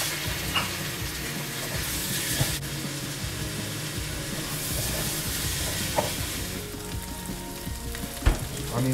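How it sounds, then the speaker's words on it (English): Chopped onion sautéing in a pan, the first step of a hilsa fish head and cabbage curry, gives a steady close frying sizzle with light stirring clicks and a sharp knock near the end. "And saute it or fry it for about 3 minutes or so."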